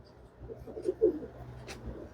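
Soft, low coos from Chennai breed pigeons rise and fall a few times against a quiet background, with one brief higher chirp near the end.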